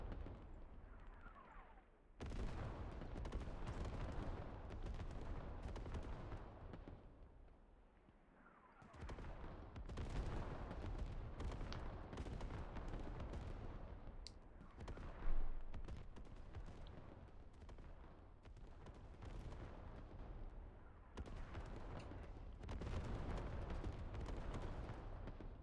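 Continuous rumbling barrage of artillery fire in the military shooter game Squad during a tournament grand final match, dense booming blasts layered under ongoing battle noise with a sharp louder impact midway.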